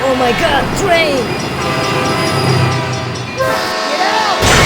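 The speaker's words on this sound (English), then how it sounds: "Oh my god, train!" A train bears down in a cartoon-style crash game with McQueen stuck on the rails, its horn sounding in loud gliding blasts over rumbling wheels, while excited voices shout and squeal.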